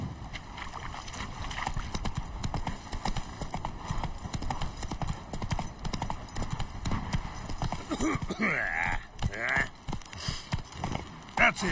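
Horse hooves galloping in a video game, a steady rapid clip-clop rhythm running throughout, with a brief whinny and a voice speaking near the end.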